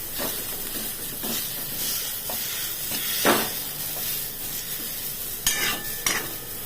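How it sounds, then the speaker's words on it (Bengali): Mashed young jackfruit fries in a pan, a soft steady sizzle under intermittent scraping and tapping of a spatula, with a few sharper metallic knocks near the end; fairly quiet and close, no voices. "ভর্তা করার জন্য এইভাবে এঁচোড়টাকে থেতলে ভালো করে ভেজে নিতে হবে।"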